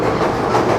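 A brief burst of steady rolling rumble comes from inside a Panchagarh–Khulna passenger train jolting over the rails, heard close and loud with no speech.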